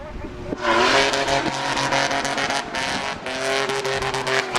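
A car is driven aggressively, its engine revving hard and tires squealing in sustained, wavering screeches over constant road noise, loud and close.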